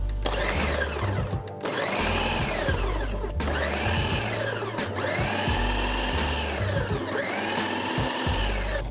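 A food processor purees jerk chicken marinade, running loud and continuous with a steady motor whine that surges and dips in several pulses across the whole stretch.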